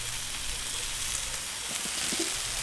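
Bacon rashers and mushrooms are frying outdoors on a Weber Q 3200 griddle, making a steady, bright hissing sizzle throughout with a few soft scraping touches near the end.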